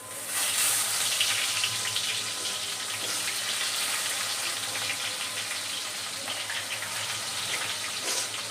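Onions drop into hot oil tempered with cumin, giving a loud, continuous hissing sizzle close by that stays steady from start to finish with no talking.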